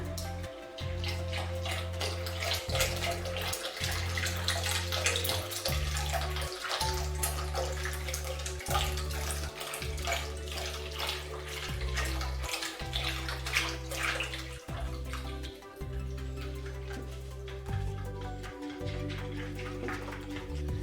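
Milk, one litre, poured into a pot for Napoleon cake custard cream, a continuous close liquid stream with a bubbling, rushing tone that runs steadily throughout without speech.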